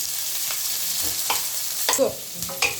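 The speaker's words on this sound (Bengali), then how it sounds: "দিয়ে পেঁয়াজটা একটু হালকা লাল হওয়া পর্যন্ত ভেজে নিতে হবে।" Chopped onions fry in a pan for chana masala, a continuous sizzling hiss broken by a few quick stirring scrapes and clatters near the end.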